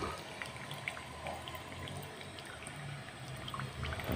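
Distilled water from a simple homemade distillation apparatus runs in a quiet, steady trickle and pour, faint and close, with light splashing flecks and no talking.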